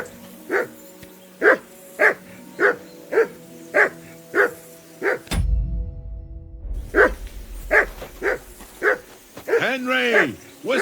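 A dog barks in a steady, evenly spaced series in the video game Kingdom Come: Deliverance II, with a short break and then more barks. Someone shouts over the final barks.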